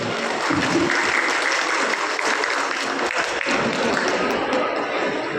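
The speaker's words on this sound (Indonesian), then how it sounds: "tepuk tangan dulu lah ya" An audience at a book discussion event applauds steadily, a dense, sustained wash of many hands clapping at moderate volume that holds evenly for several seconds without pause.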